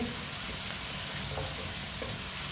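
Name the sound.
washed potatoes frying in a pan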